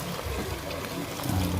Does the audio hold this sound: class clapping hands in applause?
no